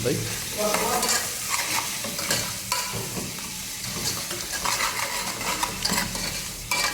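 Sliced onions with salt frying in a pan, a loud, close sizzle under steady scraping and stirring of a utensil, with occasional clanks against the metal.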